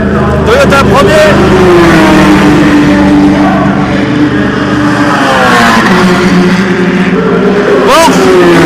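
Race cars, including a Toyota, roar past during 2016 Le Mans 24 Hours qualifying: loud, continuous engine noise with rising and falling revs and gear changes, with a voice talking underneath.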